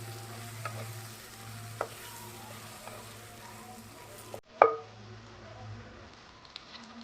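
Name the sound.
tomato and mango pieces frying and stirred in pan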